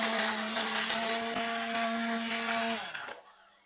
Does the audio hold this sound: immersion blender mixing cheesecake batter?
yes